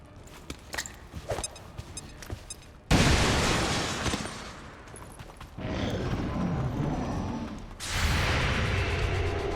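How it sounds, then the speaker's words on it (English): Grenade blasts in the XCOM 2 strategy game: a run of sharp crackling pops, then a loud broadband explosion that rumbles and decays, followed by a second burst of noise near the end, with no talking. "Can I throw the grenade that far?"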